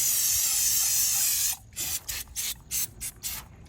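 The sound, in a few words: parts cleaner being sprayed to clean car parts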